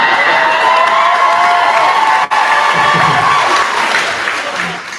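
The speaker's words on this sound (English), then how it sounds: "why are they clapping?" A live audience at a show in Washington D.C. claps and cheers in a dense, loud wash of applause that thins and fades toward the end.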